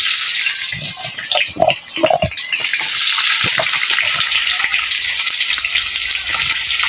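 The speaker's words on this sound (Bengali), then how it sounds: "সেই আলুগুলোকে এখন আমি ভেজে নিচ্ছি" Potatoes for a fish curry fry in hot oil, a loud continuous sizzle with some stirring and scraping knocks early on, close and steady throughout.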